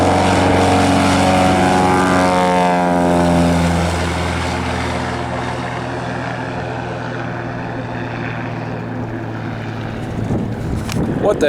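A floatplane on floats (registration N134RT) revs its propeller engine for takeoff from water, a loud droning roar with rising and shifting harmonic tones that gradually fade as it moves away.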